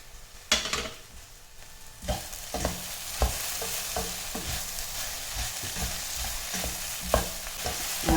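Okra sautéing in a pan, a steady sizzle broken by repeated scraping strokes of a spatula stirring at an irregular pace, close and fairly loud, with no talking.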